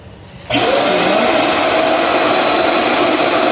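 A Kyocera AVC51H vacuum cleaner, set up to blow air, switches on after half a second and runs with a loud, steady, even whoosh for the rest of the clip, with no talking.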